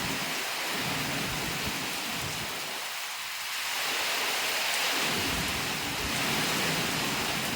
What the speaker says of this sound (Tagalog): Ayan na ang bagyo. Nandito na sa amin.